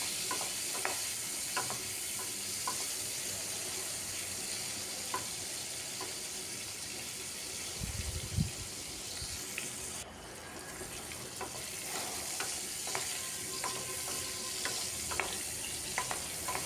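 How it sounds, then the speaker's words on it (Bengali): Pointed gourd pieces stirred and fried in a pan, a continuous close sizzle broken by repeated spatula scrapes and clinks, with a brief splash of running water partway through; no talking. "পটলটাকেও বারবার নাড়িয়ে এইভাবে একটু লাল লাল করে ভেজে নিচ্ছি।"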